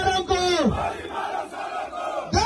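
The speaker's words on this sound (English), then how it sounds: "the crowd was simply shouting, "Shoot them!"" A crowd at a political campaign rally shouts in unison, a loud chanted call and response with sustained massed voices.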